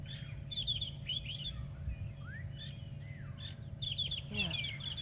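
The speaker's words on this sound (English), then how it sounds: "Lots and lots of bird calls at the moment." Several birds call in the bush on a safari morning, with repeated bright chirps and whistled notes in short bursts, moderately close over a low, steady rumble.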